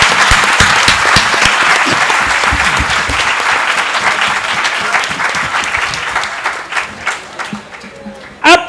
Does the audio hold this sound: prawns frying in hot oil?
no